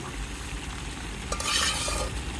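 Tilapia fish pieces are flipped in hot oil in a frying pan while cooking outdoors. A continuous close sizzle swells into a brief louder crackle and clatter as the fish turns, then settles back to steady frying.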